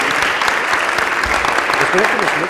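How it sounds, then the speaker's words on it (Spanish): An audience at a medical symposium on the discovery of the papilloma virus applauds for Dr. Surhausen: steady, dense clapping that fills the room, with a voice briefly audible beneath it. "un aplauso inicialmente para el doctor Surhausen"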